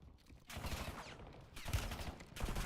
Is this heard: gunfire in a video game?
yes